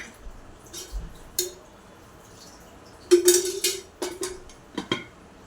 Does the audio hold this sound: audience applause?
no